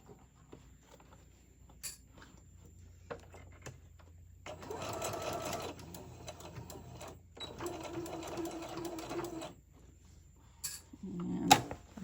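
A sewing machine stitches the seams of a fabric tote bag in two sustained runs of whirring. Quiet handling noises and clicks come before, between and after the runs.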